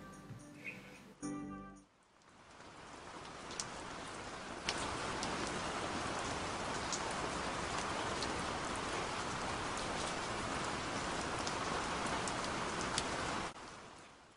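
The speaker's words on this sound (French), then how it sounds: "la pluie, c'est agaçant des fois" Steady rain falls and patters on a surface, a dense, even hiss after a brief rustle at the start, continuing unbroken until near the end.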